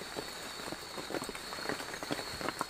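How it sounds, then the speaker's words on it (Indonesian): Heavy rain falls on a campsite in the middle of a forest. It makes a steady, close hiss with scattered louder drip and patter hits on nearby surfaces. "Hujan lagi nih."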